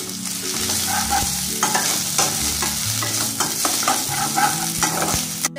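Chicken fried rice with carrot, beans and cabbage being stir-fried in a hot pan, a steady close sizzle with repeated scraping and stirring clatter throughout, no voices.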